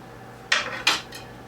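A knife chops down twice through an aloe leaf on a cutting board, two sharp close knocks about a third of a second apart and a fainter third tap, with no talk.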